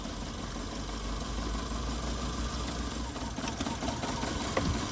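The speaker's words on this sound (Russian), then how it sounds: "что за цокот в моторе происходит?" A car engine idles with a fast, clattering knock ticking steadily under the running hum, close and fairly loud throughout.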